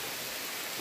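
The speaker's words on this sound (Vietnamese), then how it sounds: "Đây đang trời mưa rất là to nhé hai anh em, vào đây trú mưa" Heavy rain pours down in the Central Highlands of Vietnam, a dense, continuous, even hiss that fills the whole brief moment with no other sound standing out.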